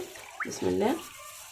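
Homemade liquid detergent is stirred in about ten litres of water, giving a short, close slosh and swirl with a voice speaking over it.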